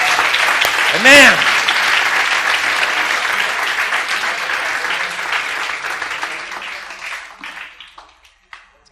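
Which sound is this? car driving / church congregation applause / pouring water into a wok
church congregation applause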